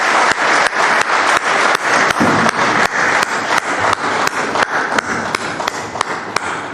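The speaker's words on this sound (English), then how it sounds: "Please have a big round of applause for all of them." Audience at a university event applauding a list of honoured guests, with loud, rhythmic clapping that falls into a steady unified beat across the whole stretch.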